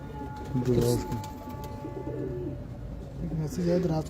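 Domestic pigeons at a Lahore pigeon keeper's loft coo in low, rolling phrases, with a couple of louder bursts near the start and end, under steady background noise and people talking.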